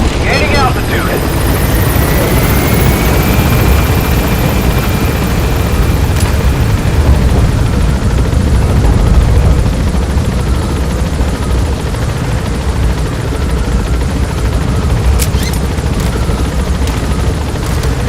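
In the Metal Gear Solid V video game, a helicopter climbs with a loud, continuous rotor and turbine roar that fills the whole stretch, with a rising whine at the start and a brief voice under the noise.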